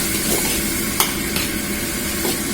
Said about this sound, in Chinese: 开大火爆炒下